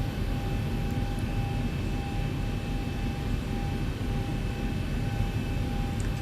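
An aircraft in the X-Plane 11 flight simulator taxiing out for takeoff, heard as a steady, even engine drone with a faint high whine, continuous and unchanging throughout with no talk.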